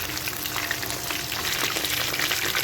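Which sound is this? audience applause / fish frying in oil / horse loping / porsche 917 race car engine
fish frying in oil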